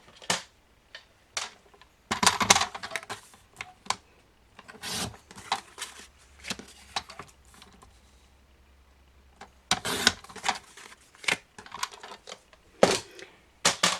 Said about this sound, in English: Now we need to cut our cards apart.